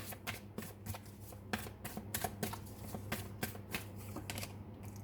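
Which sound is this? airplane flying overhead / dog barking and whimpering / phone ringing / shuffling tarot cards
shuffling tarot cards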